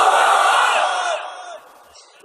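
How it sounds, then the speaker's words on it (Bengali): A crowd at an Islamic sermon gathering roars a takbir, 'Allahu Akbar', in unison: a loud, close collective shout that holds for about a second and then trails away into a fading murmur. "তাকবীর পড়েন, লিল্লাহি তাকবীর।"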